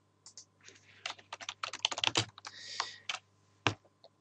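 Rapid typing on a computer keyboard, a close, uneven flurry of clacking keystrokes with brief pauses between bursts and no voices.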